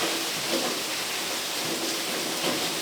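Heavy rain pours steadily through a thunderstorm outside a home gym, a dense, constant hiss of falling water with a low rumble of thunder beneath it and no talking.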